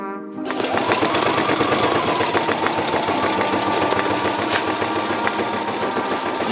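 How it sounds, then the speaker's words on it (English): A non-Sailrite sewing machine stitches an isinglass boat window held with basting tape, running in a steady, fast mechanical chatter for several seconds, close and alone without speech. "it's not a sailrite, and it struggles at times, but it seems to be doing okay"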